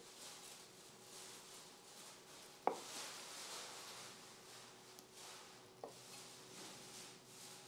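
A knife slices through juicy, black-pepper-seasoned turkey breast roasted on a Weber kettle rotisserie. A few quiet cuts and soft taps on a board, with faint scraping in between and no talk.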